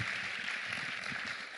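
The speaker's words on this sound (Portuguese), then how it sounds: "dê um forte aplauso" A church congregation applauding during a Sunday morning worship service, a steady dense patter of clapping throughout, moderately loud and without clear voices.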